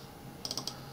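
Four quick, light clicks of keys on a computer keyboard, tapped close together in a short burst over a low, steady room hum.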